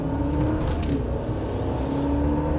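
A 2002 Lexus SC 430's V8 engine roars steadily under full throttle, a deep continuous drone with a brief higher whine partway through, recorded close from inside.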